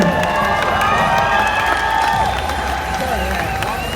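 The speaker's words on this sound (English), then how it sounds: "There's a great crowd out there in Des Moines. Ladies and gentlemen, let them hear you." A large crowd cheers and shouts steadily at an outdoor Nathan's hot dog eating contest qualifier in Des Moines, Iowa. The noise stays loud and continuous, with a broad roar running under a voice that carries over it.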